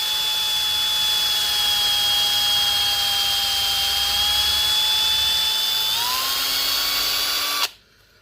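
Continuous high-pitched whine of a drill running steadily into a plastic Ford Falcon bumper clip, pitch rising slightly near the end before it stops abruptly.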